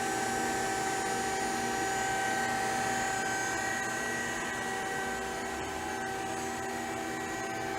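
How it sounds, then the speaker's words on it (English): Jorgensen chip conveyor running on a 2000 Mazak QT250 CNC lathe, a steady mechanical whine and hum with sustained tonal drone holding evenly throughout, no pauses. "Chip conveyor again."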